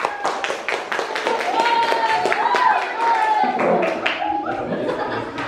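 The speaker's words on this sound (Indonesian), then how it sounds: "Tepuk tangan, berikan tepuk tangan juga untuk kelompok 3" A group of participants in a university teacher performance assessment in Ambon receives a round of clapping in a room, with chatter and light laughter mixed through it.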